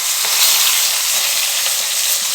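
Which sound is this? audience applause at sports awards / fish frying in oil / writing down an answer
fish frying in oil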